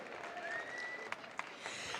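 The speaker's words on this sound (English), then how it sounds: "Please give a big, big round of applause for Mary Nolan Hickey, ladies and gentlemen." Crowd applause at a Dublin marathon event, a dense, fairly distant spread of clapping with a couple of sharper claps standing out and some whistling over it.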